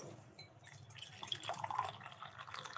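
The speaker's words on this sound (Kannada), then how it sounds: "ಮೂರು ಕಾಲು ಲೋಟ ನೀರು ಹಾಕಿದ್ದೀನಿ" Hot water poured onto about one and a half cups of rice in a cooking pot for vangi bath, a soft trickling and dripping splash that runs steadily for a few seconds at low volume.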